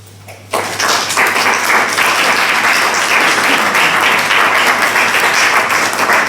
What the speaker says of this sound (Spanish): Vamos a reunir todos los aplausos y al final se aplaude